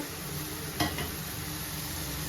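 A radish mixture sizzles gently in a pan over a medium flame, a steady low fry with one brief stir or scrape near the start and no talking.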